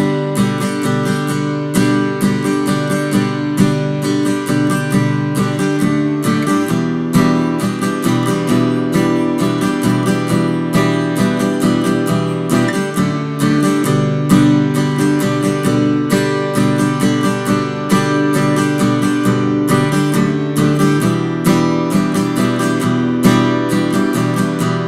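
An acoustic guitar strums steadily through a simple three-chord song, with an even rhythm and no voice.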